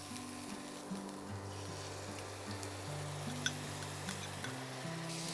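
Spice paste hitting hot ghee in a pan while cooking ghee fish, giving a steady close crackling sizzle that holds at an even level throughout, with faint ticks of the pan.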